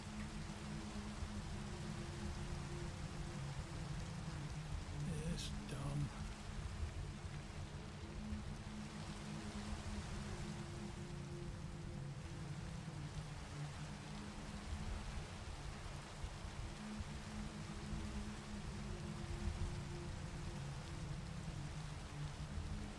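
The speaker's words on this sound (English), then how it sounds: "Speaking of rain, here it comes." Steady rain pours down over farmland as a storm arrives, a continuous broadband hiss with a low rumbling bed. A brief spoken remark is heard.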